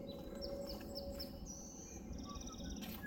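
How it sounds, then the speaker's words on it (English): Several birds chirp and whistle in short repeated notes over a steady outdoor rumble in a San Francisco park, fairly close, with no talking. "amazing birds and everything."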